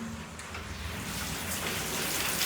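Steady rain pours into a small waterfall on a resort patio in Hoi An, making a dense, even hiss of falling water and splashing that holds constant and close throughout.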